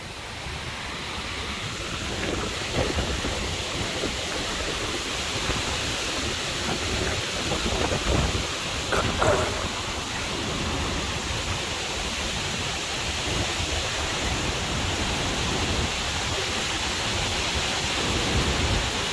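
Tropical storm wind and rain lash a palm-lined beach at night, a dense continuous roar of gusts, surf and downpour that stays loud and steady throughout, with no voices.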